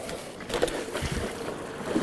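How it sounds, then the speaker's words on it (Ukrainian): A CityCoco Connect 2 electric scooter with all-wheel drive pushes through a large puddle and mud, giving a continuous close watery splashing and churning rush that stays fairly even throughout, with no talking. "переїхати повз оцю всю перешкоду, починаючи від цієї великої калюжі, через ту калюжу і потім через то болото"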